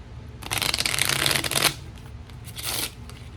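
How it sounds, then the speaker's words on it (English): A small, cute deck of cards is shuffled up close, with a long crisp riffle followed by a shorter second burst, fairly quiet and with no voices. "I got this cute little deck, but it's really hard to shuffle"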